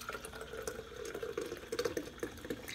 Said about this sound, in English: I'm gonna pour it through a strainer because there are chunks of fruit in it